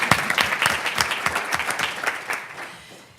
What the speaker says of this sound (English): We should give Jullian a round of applause.